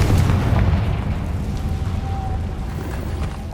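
A Confringo blasting spell explodes in Hogwarts Legacy on PS5. It is a loud, sustained rumbling blast with a booming low end that rolls on for several seconds.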